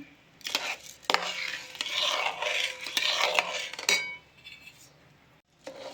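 Suji halwa with milk being stirred in a metal pan, a spoon scraping and clinking against the pan in uneven strokes, close and clear, then briefly quiet near the end.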